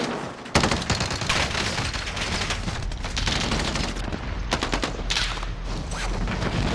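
Dense, loud gunfire from a weapon in Call of Duty Warzone, a near-continuous fusillade of rapid shots with sharp bursts standing out, playing nonstop for several seconds without speech.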